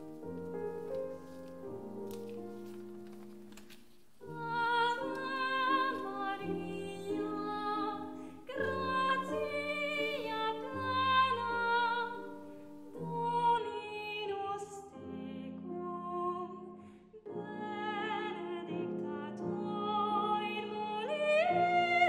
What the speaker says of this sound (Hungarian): A két dal, amit hallani fognak, Ave Maria és O Solutaris című mű